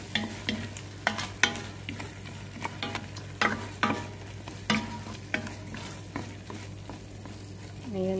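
A spoon scraping and stirring okra and potato stew with black lemon and onion in a pot, rhythmic strokes about once a second over a low sizzle and steady hum.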